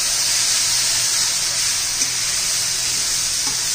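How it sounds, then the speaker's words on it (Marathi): Cumin and mustard seeds splutter and sizzle in hot oil while tempering for a green-masala cluster bean curry, a loud, continuous frying hiss with a few faint pops, and no voices. "हे पहा, जिरं मोहरी छान अशी तडतडलेली आहे।"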